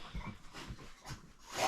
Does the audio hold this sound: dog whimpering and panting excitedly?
yes